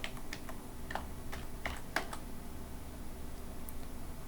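A username and password go in on a computer keyboard: a few quiet, quick keystroke clicks in a soft irregular burst, then a low background hum.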